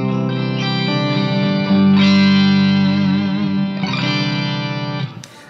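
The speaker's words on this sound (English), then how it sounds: "if we go back for more of a cleaner sort of tone, and we have a good mixture of both the high octave and the low octave" A clean electric guitar through a Blackstar ID Core Stereo 100 amp rings out in sustained chords layered with high and low octave effect, bright and shimmering with a slight wobble, loud and close, ending in a short pick scrape.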